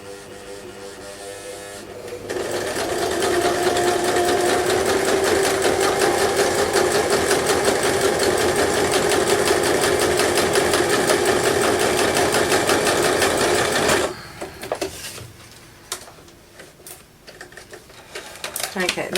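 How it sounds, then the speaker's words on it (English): A sewing machine runs a straight stitch down a seam in one continuous rapid whirring burst of about twelve seconds, close and steady, then stops, leaving quiet handling sounds. "I'm just going to do a straight stitch right down that seam"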